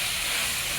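Onions, chopped tomato and green chili sauté in a hot pan for a Kerala-style chicken curry, giving a steady, close sizzling hiss throughout the short moment.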